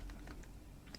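Steady typing on a computer keyboard, a run of light key clicks at a conversational pace, close and quiet with no talking.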